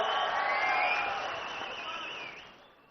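Crowd cheering and clapping at a political rally in Paderu, a broad wash of voices and applause that swells and then gradually fades.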